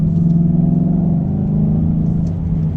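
A 2015 Ford Mustang's deep 5.0-liter V8 engine rumbles steadily up close, its low throaty idle holding an even tone with no voices.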